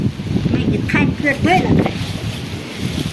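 Strong storm wind buffets the microphone in a constant low rumble, with people talking briefly over it.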